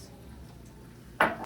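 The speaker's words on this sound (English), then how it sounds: "Patrick is cutting some green olives." Green olives being sliced with a knife, heard as a single short crisp cut near the end after a quiet stretch of faint kitchen background.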